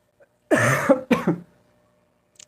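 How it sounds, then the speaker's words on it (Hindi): Two harsh coughs from one person in a quiet room, close and fairly loud, followed by silence. "खांसी काफ़ी आ रही, दो तीन दिन से आ रही है।"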